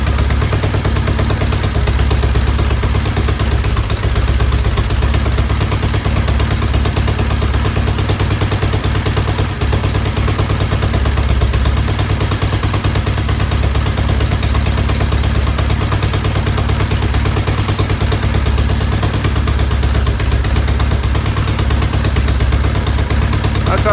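A 1970 Norton Commando motorcycle engine idles during a restoration, a loud, steady, rapid mechanical throb close by, continuing without a break for the whole stretch.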